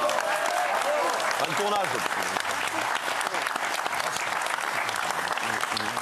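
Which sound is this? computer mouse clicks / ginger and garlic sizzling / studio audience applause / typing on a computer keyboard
studio audience applause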